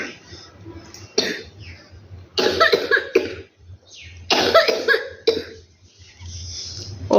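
A young child, ill with a bad cough, coughs hard in several loud, harsh bursts spread across the stretch, with quieter breathing between them.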